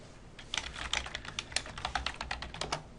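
Rapid typing on a computer keyboard as a chat message is entered, a steady burst of close, crisp key clicks lasting a few seconds with no talking.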